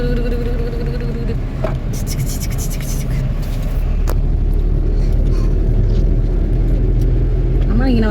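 Steady low road rumble from inside a car driving along a quiet route toward Thopramkudy, with voices talking over the constant engine and tyre noise throughout.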